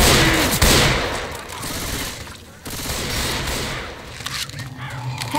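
Gunfire in the zombie shooter Left 4 Dead 2, heard as a dense, continuous burst of shots and weapon noise. It runs loud throughout, with a sharp crack near the start and a brief lull midway.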